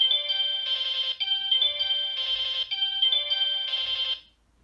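A Sailor Moon Spiral Heart Moon Rod toy wand plays its basic electronic sound effect, a bright, tinny chiming melody in repeating bursts, loud and close, ending abruptly in silence.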